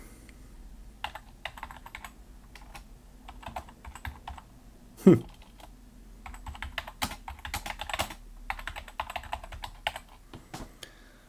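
Apple keyboard connected via a USB OTG adapter, irregular bursts of close key clicks with pauses, one louder knock and a brief murmur.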